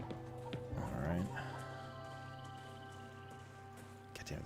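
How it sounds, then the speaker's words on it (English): A dog barks in a video game, a short close yelp-like burst near the start, then a droning game backdrop. "That's a dog."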